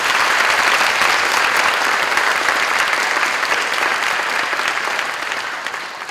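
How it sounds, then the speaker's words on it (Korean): Loud, sustained audience applause welcoming a professor onto the stage at a special lecture event, dense clapping that slowly fades toward the end with no talking. "뜨거운 박수로 오준호 교수님을 무대 위로 모셔보겠습니다"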